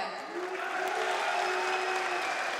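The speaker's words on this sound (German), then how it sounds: "Applaus für die rote Ecke." Dense audience applause for the red corner at a kickboxing fight, a steady wall of clapping with a faint tonal hum beneath it, continuous and even throughout.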